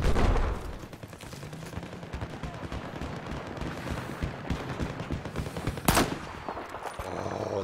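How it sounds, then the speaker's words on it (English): Dense machine gun fire and gunshots fill a Battlefield 4 battle, with rapid crackling bursts throughout and a sharp loud shot near the end. The firing is steady and heavy, with no speech in the clip. "Heads up, there's an enemy machine gunner east of your location."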